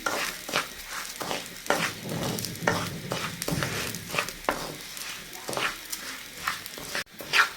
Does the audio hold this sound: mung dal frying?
yes